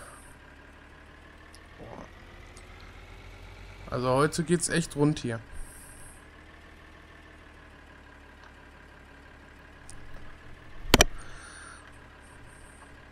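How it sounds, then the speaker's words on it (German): Tractor in Landwirtschafts-Simulator 2013 on PS3, a steady low idling engine hum running throughout under someone talking, with a brief burst of clattering noise midway and a sharp bang near the end. "Und wir holen mit dem Traktor die Sämaschine ab."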